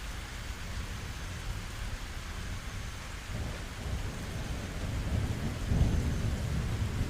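Steady rain hisses throughout while a low rumble of thunder swells and rolls in the distance, growing heavier toward the end.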